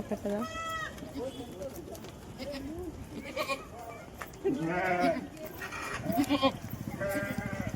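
Sheep, among them eight-month-old ewes and a ram with two small lambs, and goats give short bleats at intervals between stretches of people talking nearby.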